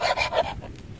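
A rusty Vespa scooter mirror being scrubbed clean of rust, a few quick, close rasping strokes in a short back-and-forth rhythm.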